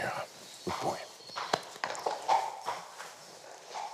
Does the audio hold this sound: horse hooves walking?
yes